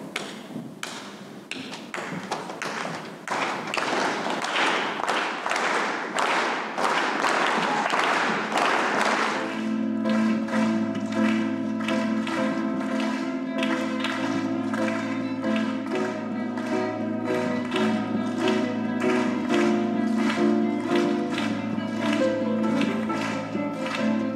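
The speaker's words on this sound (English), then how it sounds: "All you have to do is just clap this rhythm." An audience claps a steady rhythm along with a violinist's performance, the claps first loud and alone, then continuing as a regular pulse beneath the sustained strings and accompaniment.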